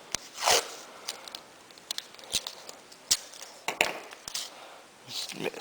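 A strip of tape is pulled off its roll while a switch is being installed in a gas-powered RC airplane. It gives several short, sharp ripping bursts, close and moderately loud, with quiet stretches between them.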